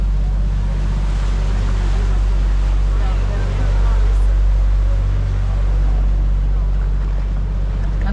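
Tour boat cruising a canal in Bruges, a loud steady engine drone with wind rumble throughout and faint voices in the background.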